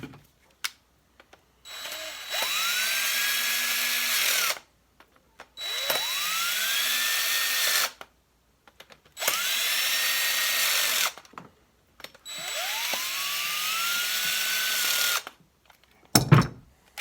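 A Heiniger Extra sheep shearing clipper with a stripped gear runs loud in four bursts of about two to three seconds each, a harsh grinding whine that climbs at each start-up, with short silences between bursts.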